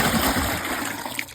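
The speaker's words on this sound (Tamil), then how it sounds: "ஒரு குடம் தண்ணி ஊற்றிருக்கிறேன் பாருங்க." A full pot of water poured out for a cow, a steady close gush of liquid splashing for over a second without pause.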